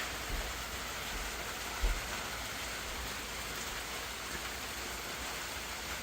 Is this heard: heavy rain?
yes